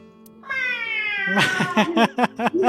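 A character in the video game AI: The Somnium Files imitates a cat, giving a drawn-out meow followed by a quick run of short, rhythmic meows toward a lucky cat statue, with no other sound.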